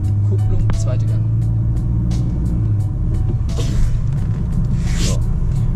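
A learner driver's car accelerates from a stop on a right-before-left practice drive, heard from inside as a steady low engine rumble with road noise, while voices talk over it.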